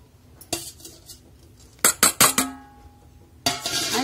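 Metal spoon scraping and clinking against a bowl while okra is mixed into soaked chickpea flour batter, a few separate sharp knocks and clatters spaced out over a quiet background.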